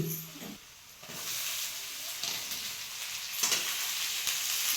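Garlic paste and spices for a capsicum sabzi sauté in a pan, giving a continuous close hiss and sizzle that swells as the mix is stirred. No voices.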